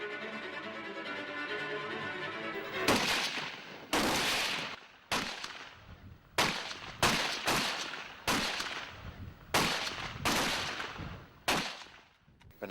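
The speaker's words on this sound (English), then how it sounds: "60 seconds you have to fire all those 10 rounds" Rifle shots on a military firing range at India's National Defense Academy, about ten sharp loud cracks at irregular intervals, each followed by a short decay, after an opening stretch of steady background din.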